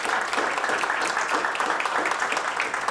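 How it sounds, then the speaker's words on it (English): Steady applause from an audience at an awards ceremony honouring a finalist, dense clapping running evenly throughout at moderate volume. "That deserves a round of applause."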